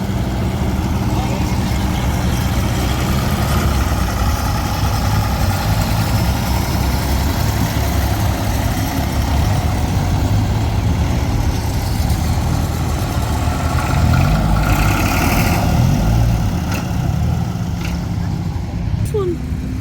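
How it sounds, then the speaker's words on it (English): Cars driving out of a car show, a steady rumble of idling and slowly moving engines up close, swelling slightly as vehicles pass, with voices faintly in the background. "And here's some cars coming out"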